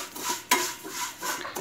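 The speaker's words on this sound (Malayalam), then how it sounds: "നമുക്കിത് നല്ലതായിട്ടൊന്ന് വറുത്തെടുക്കണം." Vermicelli roasting in ghee in a pan, with a spoon scraping and clinking against the metal as it is stirred in short, uneven strokes at close range.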